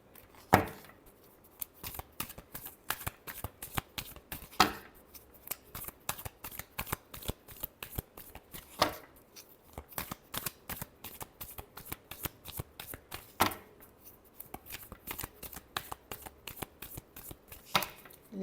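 Tarot cards are shuffled by hand in repeated quick riffles and taps, crisp close bursts with short pauses between, quiet and without talk.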